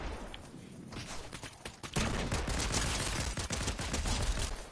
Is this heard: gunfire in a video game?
yes